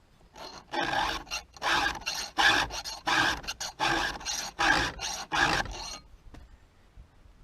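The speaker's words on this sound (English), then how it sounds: "when you're filing your power saw" A file rasps across a chainsaw chain tooth in about eight even, rhythmic strokes, each a close, harsh scraping burst with short pauses between, ending in quiet.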